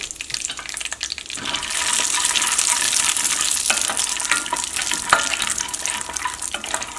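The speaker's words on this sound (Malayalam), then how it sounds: "അപ്പോൾ ഫസ്റ്റ് നമുക്ക് കപ്പലണ്ടി വറുത്തെടുക്കാം." Peanuts frying in a spoonful of ghee give off a steady, close sizzle with light stirring clatter and scraping, continuous for several seconds with no talking.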